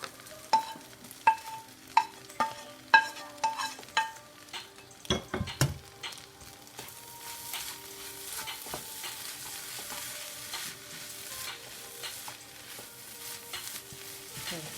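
Scrambled eggs stirred into shrimp fried rice in a pan, opening with a run of sharp rhythmic clanks of a utensil on metal, then a steady sizzle with lighter scraping.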